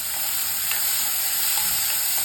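Steady, dense sizzling of onions sautéing in a pan, continuous and close, with faint stirring clicks and no voices.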